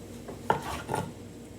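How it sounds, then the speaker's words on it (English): Cutting up a tomato on a kitchen board in a home kitchen, two short knife clunks and brief board scrapes close by, fairly soft, with no talking. "So I'm going to cut up some tomato"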